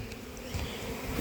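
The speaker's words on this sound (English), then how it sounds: "These wasps are just, they know, they're waiting for me to come and open those hives up." Wasps buzz around beehives, a close, dense insect drone that wavers as individuals pass, steady for the short moment with no talk.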